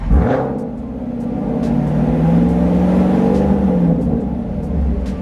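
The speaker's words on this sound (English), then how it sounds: "Go ahead and rev up the engine." A car engine revs steadily, its low rumble rising and holding, loud and close, with no voices.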